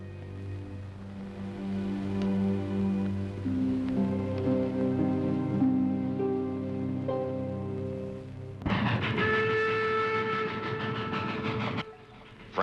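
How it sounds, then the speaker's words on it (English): A train rolls along the tracks in a 1954 Western TV drama, first as a steady low rumble and hum. Then a loud, bright whistle blast holds for about three seconds before cutting off. "The train was moving right along"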